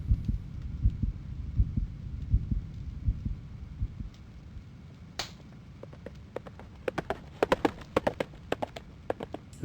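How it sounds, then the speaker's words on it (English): Heartbeat sound effect in a sound-guessing game: soft, rhythmic low thumps pulse steadily for several seconds, then give way to sharper scattered clicks and taps, with no talking. "Heartbeat."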